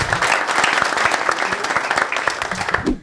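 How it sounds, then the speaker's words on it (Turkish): A studio audience at a Turkish talk show breaks into warm applause, dense clapping sustained for about three seconds before cutting off abruptly. "Bir alkışlar."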